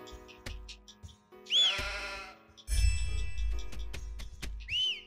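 Cartoonish sheep in a video game bleat loudly in short bursts, several calls spread across a busy backdrop of clicks, chimes and game sound effects, with no speech.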